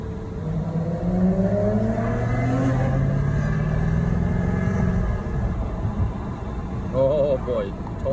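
A Dundon Speedster engine is revved hard, with the pitch rising in long sweeping climbs and falling back, loud and close. A voice briefly joins near the end.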